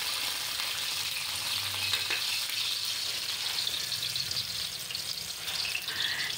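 Onions sizzling in a very hot pan, with a loud, continuous crackling fry and faint stirring scrapes throughout, and no voices.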